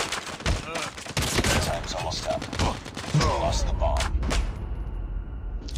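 Rapid gunfire in a Call of Duty Mobile search and destroy match, sharp repeated shots in quick clusters, loud and near, mixed with game voice lines and a player talking.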